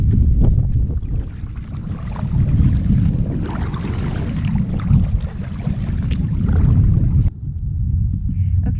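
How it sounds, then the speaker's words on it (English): Wind of about 12 mph buffets the microphone on a lake during a kayak fishing outing, a loud, gusty low roar that surges and dips throughout, cutting out sharply near the end before resuming. "for the last 2 hours I'm going to brave the 12-mile-per-hour wind"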